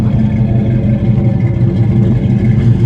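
The engine of a 1994 Chevy with a blown head gasket idles steadily with a low, even rumble and light clatter, loud and close with no talking.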